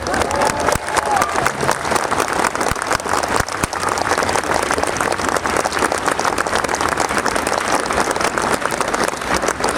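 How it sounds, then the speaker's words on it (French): Dense, loud applause from a large outdoor crowd at a bikers' gathering in Cap d'Agde, France, clapping for police officers present, continuous and even throughout with a few scattered cheers. "Applaudissez les flics qui sont ici"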